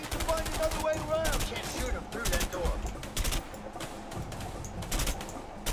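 Gunfire crackles in a shootout in the video game A Way Out, rapid bursts of shots in repeated volleys, with people talking in between.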